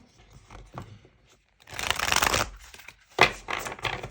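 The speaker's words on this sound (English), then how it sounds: "I want to shuffle it in like this too" Cards riffle and rustle in two bursts, a long broadband shuffle followed by a shorter snap, fairly close with quiet gaps between.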